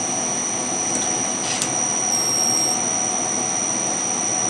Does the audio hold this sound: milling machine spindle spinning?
yes